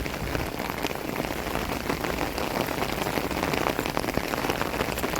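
Rain falls steadily in a village, with a constant pattering of drops on nearby surfaces forming an even, close hiss.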